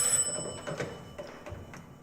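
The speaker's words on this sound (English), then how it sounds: "the ringing of that phone bell means mystery," An old-style telephone bell rings in a radio mystery drama, a bright metallic trill that repeats in short bursts, fairly close and alone.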